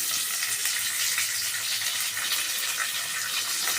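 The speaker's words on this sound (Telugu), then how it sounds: "ఈ మెంతం కూర కూడా వేసుకున్నాము నూనెలో వేగాలి ఇది కూడా" Curry leaves and fenugreek leaves frying in hot oil over a high flame give a steady, dense sizzle that holds evenly throughout without a break, close and fairly loud, with no voices over it.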